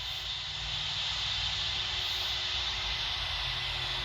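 Airliner engines hold a steady, loud roar with hiss on approach to a runway in the Roblox flight game PTFS, constant and unbroken throughout with no talking.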